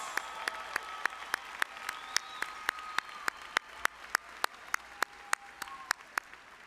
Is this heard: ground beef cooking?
no